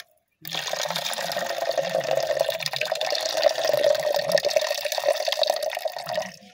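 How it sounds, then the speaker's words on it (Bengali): Olive leaves being washed under running water, a steady close stream pouring into a sink for about six seconds after a short silence, then stopping. "জল দিয়ে এটাকে সুন্দর করে ধুবো।"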